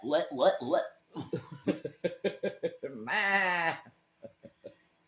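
A goat bleats with a quavering, drawn-out cry of about a second, heard between bursts of human voices close by.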